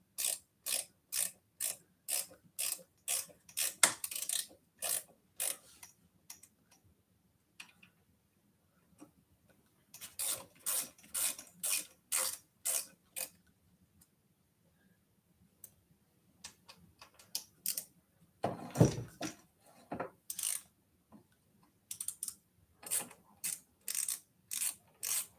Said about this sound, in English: really the way to put this faceplate on is to use a torque wrench